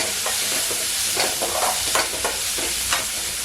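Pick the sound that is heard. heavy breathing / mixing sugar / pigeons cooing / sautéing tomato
sautéing tomato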